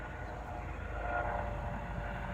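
A helicopter passes overhead as a low, steady engine and rotor rumble, swelling slightly in the middle then holding, fairly distant and without speech.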